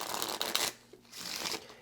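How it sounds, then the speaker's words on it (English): Two bursts of rapid riffling cards from a Dragonwood card game deck, each lasting about half a second or more, separated by a brief quieter pause; close and crisp. "Go ahead and give it a shuffle"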